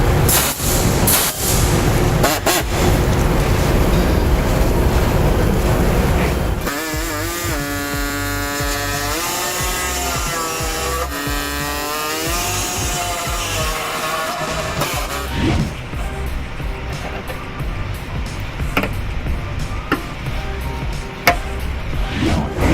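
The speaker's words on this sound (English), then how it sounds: "So I'm going to use a air saw to go ahead and enlarge the holes that we need to on the Chevy Cruze." A pneumatic air saw rasps and buzzes against the steel frame of a Chevy Cruze to enlarge holes. A loud, rough cutting noise gives way to a whining tool sweep and then more choppy grinding, all close with no talking.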